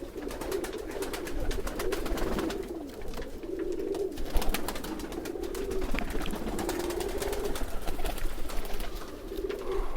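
Domestic pigeons kept for pigeon flying coo in repeated low, rolling phrases, close and fairly steady across the span, with some faint clatter and background rustle but no talking.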